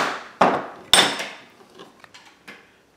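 A hammer strikes a punch through rawhide for a rattle in two loud, sharp blows close together, followed by a few lighter taps that fade out.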